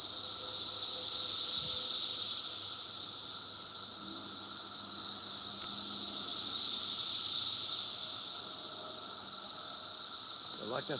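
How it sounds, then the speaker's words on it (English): Dense, steady cicada buzzing outdoors during a catfishing trip, a high shrill drone swelling and fading in slow waves, with a voice speaking faintly underneath. "you could hear all these cicadas"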